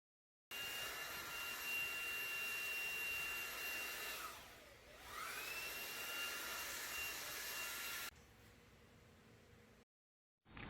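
A Xiaomi Dreame V10 cordless stick vacuum runs with a loud, steady high-pitched whine. The pitch drops and the motor briefly eases before it climbs back to full power, and then it cuts off abruptly.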